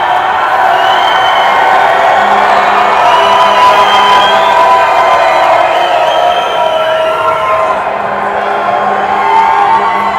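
A hockey arena crowd at a Predators–Avalanche playoff game roars and cheers continuously, a loud, sustained wall of voices with whoops rising throughout.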